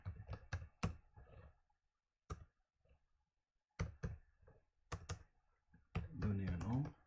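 Keystrokes on a computer keyboard set to a French layout, typed in short irregular bursts of clicks with pauses between, close and moderately loud, with a denser flurry at the end.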